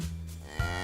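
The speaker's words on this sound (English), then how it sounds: "A white and black cow." A black and white cow gives a short, deep moo, loud and close, a low droning call lasting under a second.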